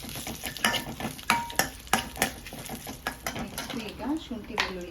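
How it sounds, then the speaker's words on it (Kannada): Kasuri methi, curry leaves and dried red chillies fry in hot oil, a steady close sizzle broken by sharp clinks and scrapes of a spoon stirring the pan. "ಈಗ ಮತ್ತು ಕಸೂರಿ ಮೆಥಿ, ಕರಿಬೇವು ಮತ್ತು ಒಣಮೆಣಸಿನ್ಕಾಯಿ ಇದನ್ನು ಸ್ವಲ್ಪ ಫ್ರೈ ಮಾಡ್ಕೊಳ್ಳೋಣ"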